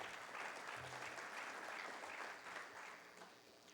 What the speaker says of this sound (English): You all deserve a round of applause for yourselves to make it here